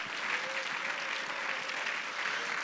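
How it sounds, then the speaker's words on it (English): A church congregation gives a clap offering during a sermon. Steady, even applause from a crowd sounds somewhat distant and soft, with a faint sustained tone held underneath. "Let's give God a clap offering in here."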